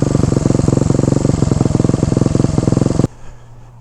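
A small Honda motorcycle engine idles unevenly, with a suspected intake leak and an oil leak, producing a loud, close, steady pulsing chug that cuts off abruptly near the end, leaving faint low hum.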